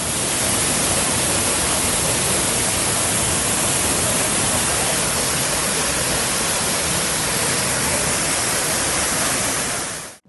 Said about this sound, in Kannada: ವನಪು ವಯ್ಯಾರದಿಂದ ಹರಿಯುವ ಉತ್ತರ ಕನ್ನಡ ಜಲಪಾತಗಳ ನೋಟ ಹೇಗಿದೆ ಎನ್ನುವುದನ್ನು ನೋಡೋಣ